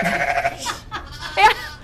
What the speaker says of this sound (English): The sheep say bye, too. Yeah, we can hear them loud and clear.